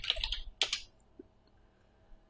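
Two quick bursts of computer keyboard typing, close and crisp, followed by a near-silent pause with a faint tap or two.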